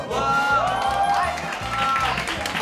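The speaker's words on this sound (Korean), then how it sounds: "떡 배달이 교실에 도착하자 환호성이 터져나오고" Students in a classroom break into excited cheering and clapping as a delivery of rice cakes arrives, a lively burst of shouts and whoops with raised voices mixed in.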